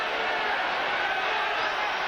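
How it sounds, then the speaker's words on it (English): A baseball crowd at a Marlins–Red Sox game gives a mock cheer, a steady, broad roar of many voices that holds at full level throughout the short stretch. "A mock cheer goes up from the crowd on the 59th pitch of the inning from a Marlins pitcher"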